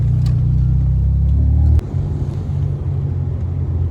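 An RB30-engined R31 Skyline with a straight pipe drives along, its loud low drone cutting off abruptly mid-way and then resuming as a rougher, lower rumble, with a clunk from the differential at the change.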